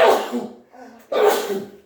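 Two sharp, close sneezes in quick succession, each a loud burst followed by a brief breathy tail.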